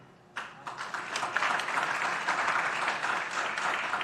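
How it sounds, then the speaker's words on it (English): Audience applause greets mayoral candidates as they are named at an Irvine candidates forum, a dense burst of many hands clapping that starts abruptly and holds steady and fairly loud throughout. "this is one moment you can applaud"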